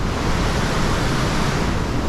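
Rushing water of the Miller River waterfalls on a large river, a loud, steady broadband roar with no breaks, filling the whole moment without any voices.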